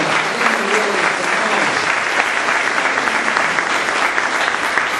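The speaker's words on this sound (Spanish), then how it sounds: "Dale un aplauso a Jesucristo" A church congregation gives sustained, dense applause that stays loud and even for the whole stretch, with no letup and no voice rising above the clapping.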